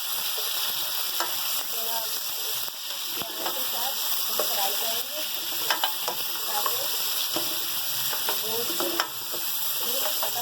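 Washed goat meat hits golden fried onions in a pot, setting off a loud, continuous sizzle with bursts of crackling and frequent stirring clatter throughout.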